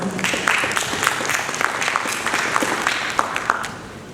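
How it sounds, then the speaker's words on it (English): Audience applause at a design and building technology event, a moderate crowd clapping steadily with scattered sharper claps, heard from within the room. "A huge round of applause."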